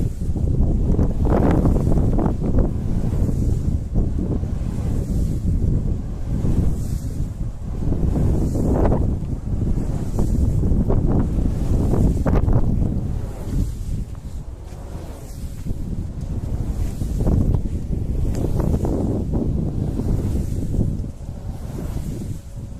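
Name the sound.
wind turbine blades cutting through the wind, Mannar coast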